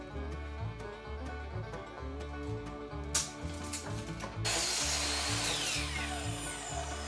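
A power saw cuts cedar boards for a planter in a woodworking shop, a steady machine drone overlaid with rough, loud cutting noise that swells and holds through the latter half, with no talking.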